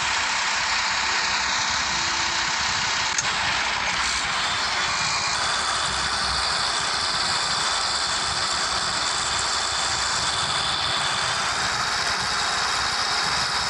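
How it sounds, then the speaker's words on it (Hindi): A modified 605 tractor engine runs steadily and loudly for the whole stretch, a continuous dense rumble with a bright, roaring top, with no pause and no talk over it. "अपने 605 ट्रैक्टर की आवाज़ चेक करो"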